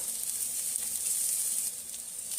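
Ginger and green chili frying in a pan with onions for a bhendi masala make a bright, continuous hiss and crackle, close and unbroken, with no talking.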